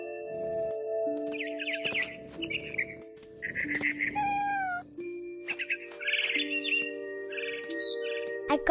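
Bird chirping in the video game What Remains of Edith Finch, bright repeated twittering calls in several bursts over sustained musical tones, with a catlike meowing quality in places and no talk.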